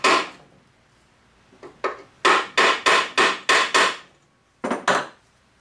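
Prying at the case of a Toyota Prius Gen 3 inverter converter: a series of sharp, close knocking and cracking impacts, irregular at first then a quick run of six evenly spaced hits, followed by two more after a pause, with no talk.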